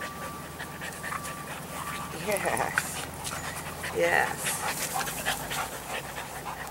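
Dogs pant rapidly nearby while someone speaks softly to them in brief words.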